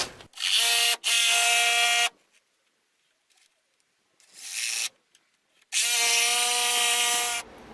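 A power tool cuts a wooden stair stringer during a veranda balustrade rebuild, loud and close, in three separate bursts: two run back to back, then a short pause, a quieter burst and a final long one.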